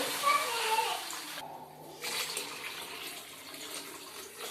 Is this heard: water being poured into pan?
yes